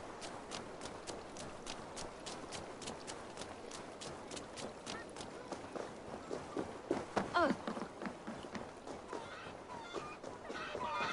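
Chickens cluck and squawk amid the rhythmic thudding bustle of a village scene in Assassin's Creed Valhalla, the fowl calls rising clearest partway through over steady background game ambience.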